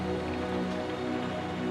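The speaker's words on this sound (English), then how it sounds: "the cooling drops of rain against the window pane" Raindrops tapping steadily against a window pane, a soft continuous patter heard close and alone, even and unbroken throughout.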